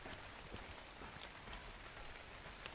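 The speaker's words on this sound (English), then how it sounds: "it says I'm still outside technically, so it rains in my house" Rain patters steadily inside a roofless player-built base in a survival crafting game, a soft continuous hiss with scattered droplet ticks, faint and alone.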